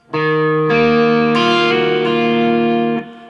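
An electric guitar rings out in a few sustained chords, lightly overdriven by an MXR Timmy pedal with a warm drive and a springy spring-reverb tail as each chord changes.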